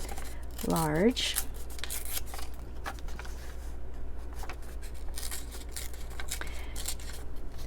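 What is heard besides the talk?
ripping paper for a journal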